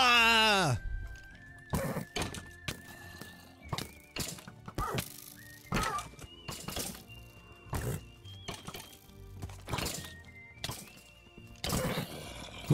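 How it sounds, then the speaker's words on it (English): In Minecraft, a horse whinnies at the start, followed by repeated thumping hoofbeats and game impact sounds at irregular intervals, with a person talking over the game audio. "Run, horsey!"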